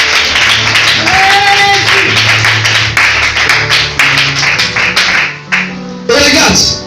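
A church congregation applauds and cheers loudly, dense clapping mixed with raised voices and a sustained tone, dipping briefly near the end before swelling again.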